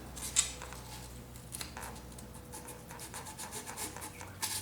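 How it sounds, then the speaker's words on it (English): Guitar fret sides being sanded by hand with 400 grit sandpaper, a faint, close, uneven rubbing and scratching in short strokes with brief pauses. "this is 400 grit, and with a bit of luck, I'm going to use the correct technique here, just to get in and sand the sides"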